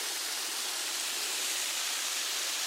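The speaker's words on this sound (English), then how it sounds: "So this is the top of the waterfalls." Steady, dense white rush of water from the top of a waterfall at Savage Gulf, constant and moderately loud with no other sounds.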